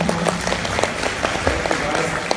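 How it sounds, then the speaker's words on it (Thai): An audience at a corporate event claps in a brief burst of applause, scattered hand claps sounding moderately close while someone speaks over them. "ก็ปรบมือให้กับพวกเขา3คนหน่อยนะคะ"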